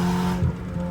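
A car engine roars at a launch, a brief loud burst of revving with a deep, rising growl, heard close and alone.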